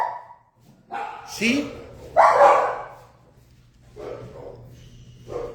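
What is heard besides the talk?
dog barking outside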